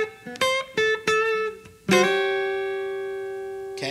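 A Stratocaster electric guitar plays a double stop blues lick: several quick two-note stabs, then a bent double stop held and left ringing, clean and close with no talk.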